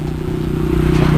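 A superbike idles close by, a loud steady low engine rumble with an even throbbing pulse that swells slightly toward the end, with no voices over it.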